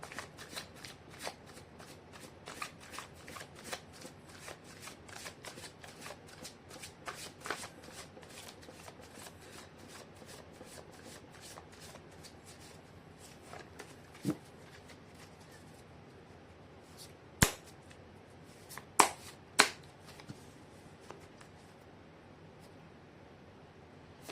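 Tarot cards being shuffled by hand, a steady, soft riffling and flicking that runs continuously and close, with a few sharper card snaps near the end.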